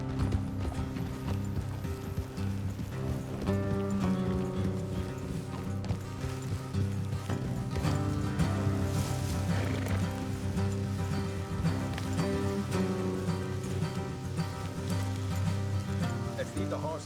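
Horse hooves clip-clop steadily in the rain in the Red Dead Redemption 2 video game, a continuous rhythmic clatter layered under dense game music and ambience, with a voice speaking at times.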